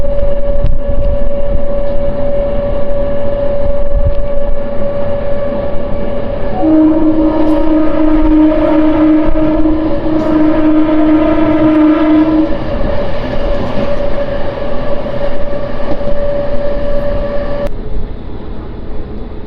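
Indian railway train rushing through a station without stopping, a steady loud rumble with a sustained horn blast in the middle, heard close and continuous for nearly twenty seconds.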